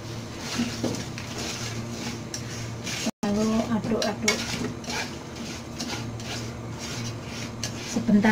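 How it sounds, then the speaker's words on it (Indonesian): Fried chicken wings with honey seasoning are stirred in a pan. A utensil scrapes and clinks steadily against the metal over a soft sizzle, and a voice comes in briefly midway. "Aduk-aduk sampai merata baru matikan api."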